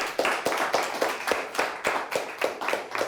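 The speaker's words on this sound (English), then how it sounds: "Let's give him a nice round of applause." A small audience claps in steady, evenly spaced hand claps, roughly a dozen sharp, close slaps over a few seconds, greeting a high school quiz team's coach in a televised quiz-show studio.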